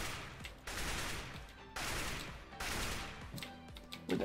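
Gunfire in the video game CS:GO: repeated bursts of automatic shots in three dense blocks, loud and close, with brief gaps between volleys and no talking.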